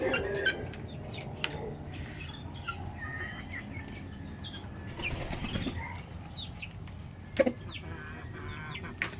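A Basilan rooster and other fowl cluck and call in short bursts, with wing flapping and a sharper crow-like cry near the end, heard over steady outdoor background noise.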